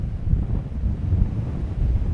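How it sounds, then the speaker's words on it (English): Gusty wind buffets the microphone with a low roaring rumble, the churn of rough sea mixed faintly underneath, no speech. "the sea is, is quite rough around here, it's quite windy"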